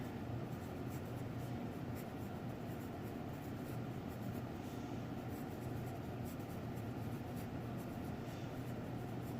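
Faint, steady scratching of handwriting as the names of two-dimensional shapes are written out during a lesson on surface area and linking cubes. No voice is heard over it.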